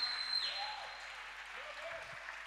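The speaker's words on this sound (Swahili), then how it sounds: "Mshangilie Bwana Yesu kwa makofi." A church congregation claps in praise during a service, a dense burst of applause that starts strong and continues steadily over a couple of seconds, fairly close.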